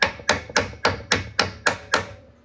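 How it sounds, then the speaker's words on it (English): Seven sharp metallic taps from a brass hammer striking a junkyard lawnmower engine, evenly spaced about a quarter second apart, each ringing briefly before the next. "Let me grab a mallet and we'll give her a couple taps."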